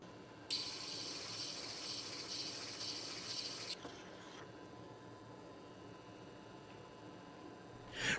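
An engraving graver is ground on an Apex sharpener lap, giving a steady bright hiss of abrasive contact that runs for about three seconds and then stops abruptly, leaving faint background noise.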